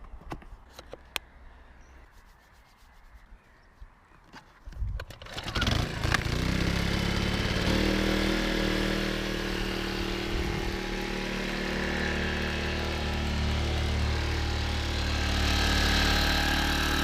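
A gasoline generator mounted on an e-bike starts up after a few seconds of quiet clicks and handling, then runs with a loud, steady buzzing drone that continues close by to the end.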